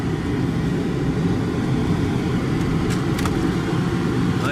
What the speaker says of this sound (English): It's always a nice pleasure to ride the town car.